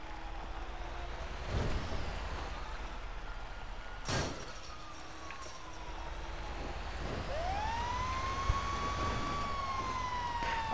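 Emergency sirens from an AI-driven ambulance and fire truck in Grand Theft Auto V wail and sweep up and down steadily, with a low rumble of traffic underneath and no talking.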